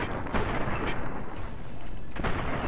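Gunfire in the video game Fallout New Vegas booms with heavy, rumbling shots over a continuous noisy background during a fight with fiends.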